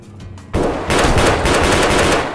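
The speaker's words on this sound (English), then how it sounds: "Is that Rose shooting?" Rapid automatic gunfire from Escape From Tarkov bursts in after a brief quiet lead-in, loud and sustained, with dense overlapping shots continuing for about two seconds.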